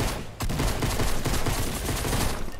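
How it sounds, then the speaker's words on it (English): Rapid bursts of gunfire fill a multiplayer shooter match, with a Tommy gun in play, dense and continuous after a brief lull, loud and close with overlapping shots throughout. "I'm getting shot at"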